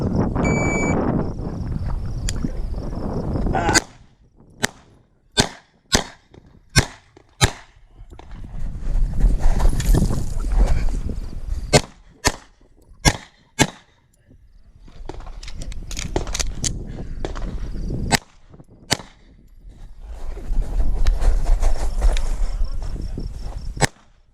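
A Wilson SFX9 pistol fires a rapid string of sharp, close shots at an IDPA match, in several quick bursts separated by pauses filled with shuffling movement and handling noise.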